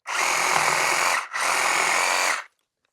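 Reciprocating saw fitted with a Japanese-tooth blade cutting through a 1.5-inch hardwood oak branch, two loud sustained buzzing bursts separated by a brief pause, then abrupt silence.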